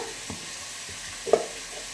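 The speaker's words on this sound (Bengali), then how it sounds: "রান্না ফট করে করে ফেলি তো মাংসটা ভাজা আর কি বসিয়েছি" Meat frying in a pan gives a soft steady sizzle at home, with a couple of light stirring clicks and scrapes, one slightly louder near the end.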